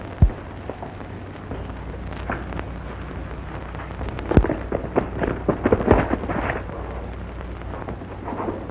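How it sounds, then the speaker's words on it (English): An explosion in a 1940 black-and-white western about Billy the Kid in Texas: two sharp booms ring out amid rumbling, crackling background noise, followed by a flurry of smaller bangs and thuds. "Sounds like an explosion."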